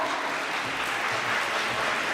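Audience applause in an assembly hall during the opening ceremony of a Model UN conference, a steady dense wash of clapping that runs unbroken through the whole moment with no voices over it.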